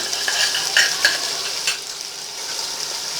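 A spoon stirs ground ginger-garlic paste into mutton and tomatoes frying for biryani, with a steady sizzle under several close scraping strokes against the pot. No one speaks.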